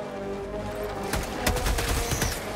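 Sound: gunfire shooting bugs in video game Helldivers 2

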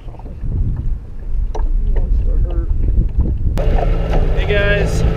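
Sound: boat on the water with wind

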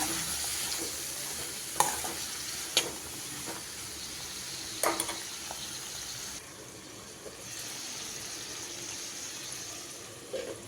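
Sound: ridge gourd pieces and tomato cooking in a pan

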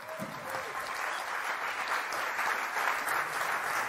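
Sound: applause

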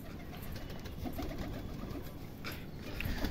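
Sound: pigeons cooing

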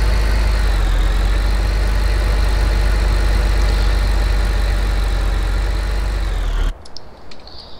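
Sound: tractor engine idling in a farming video game

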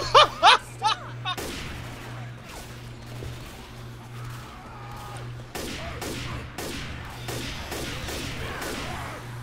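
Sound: gunshots from the video game Left 4 Dead 2

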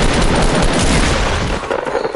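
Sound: gunfire in a video game

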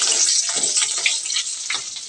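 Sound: potatoes frying in a pan

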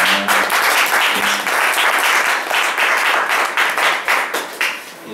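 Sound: audience applause at concert

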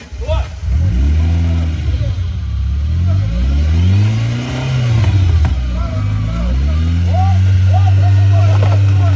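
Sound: Lada Niva off-road car engine started and revving

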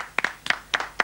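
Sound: studio audience applause

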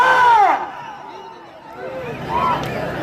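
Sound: crowd shouting and cheering at bull race

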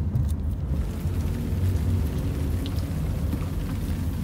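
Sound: light rain drizzling

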